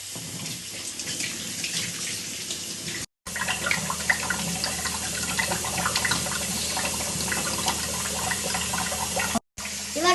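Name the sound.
tap water running while washing knife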